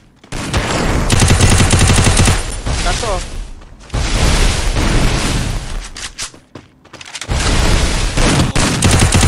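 Rapid bursts of automatic gunfire from a shooting video game, loud and dense, with sustained volleys and brief pauses while players talk over the action.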